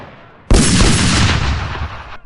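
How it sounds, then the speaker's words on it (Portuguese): Rifle gunfire in a dubbed western, a sudden loud burst of rapid shots blurring into a dense, continuous roar that holds for nearly two seconds and then cuts off abruptly. "Atiram depressa demais, palermas."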